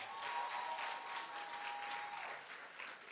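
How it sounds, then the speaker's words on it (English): A school crowd at a kick-off celebration applauds the Whitehaven Tigers, giving a dense, steady wash of many hands clapping together that stays fairly faint and distant, with a faint tone running underneath. "Let's give the Whitehaven Tigers another round of applause."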